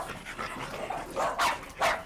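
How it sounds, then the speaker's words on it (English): Dogs bark in a household of many dogs, with two louder bursts late among softer, scattered yaps and background noise, no talk. "from dogs that bark"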